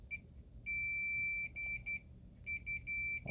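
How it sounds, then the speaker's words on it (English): Electronic beeper on a meter used while repairing the male plug of a Leslie cable, sounding a run of shrill tones: a long beep followed by several short bursts, faint and close. "Let me see if I can get this beeper."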